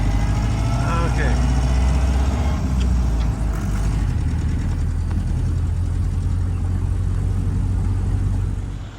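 A 1930 Ford Model A engine rumbles steadily from inside the moving car, a low continuous drone with road noise, and people talk over it at times.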